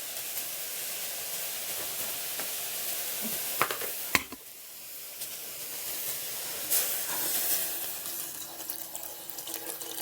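Water poured into a hot stir-fry pan of wilted bean sprouts hisses into a steady, loud sizzle and steam, with a couple of sharp clanks partway through and the hiss continuing to the end.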